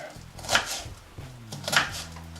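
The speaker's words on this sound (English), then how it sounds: "I'm just chopping an onion." An onion is chopped on a cutting board with a knife in a home kitchen, giving two crisp, close cuts about a second apart over a low hum.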